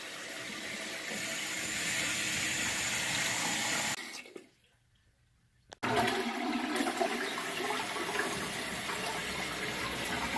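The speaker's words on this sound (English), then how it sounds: "we're going to let it fill up one more time just to ensure that we have the proper water level that is needed." A toilet tank refills through a newly installed fill valve: a steady rushing hiss of water stops abruptly for nearly two seconds, then resumes at full strength.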